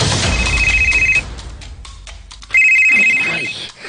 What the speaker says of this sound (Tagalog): may mibagting na cellphone